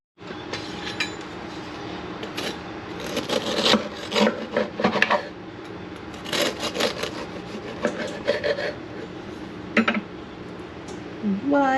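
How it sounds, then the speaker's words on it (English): Banana bread is worked loose from its baking pan with a run of scraping, rasping rubs and knocks in irregular bursts, close and fairly distinct against a quiet room. "We're gonna unmold it."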